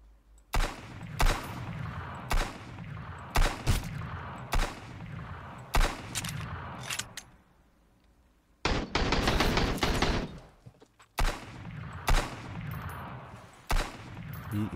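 Repeated bursts of gunfire in the survival game Sunkenland, loud and close, firing in separate volleys with short pauses between them and one longer sustained burst in the middle.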